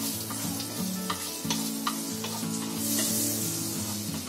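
Half a spoon of cumin seeds frying in half a spoon of butter in a pan on a gas stove: a steady, close sizzle broken by light stirring taps and scrapes, with no talking.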